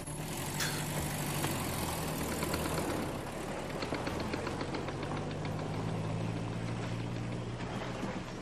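A van engine running at idle, a steady low rumble with a faint whine, heard close and moderately quiet with no talking.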